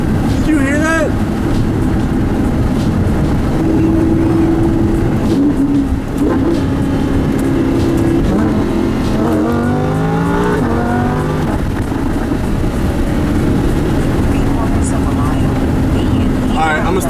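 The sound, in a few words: Lamborghini Huracan engine revving with exhaust pops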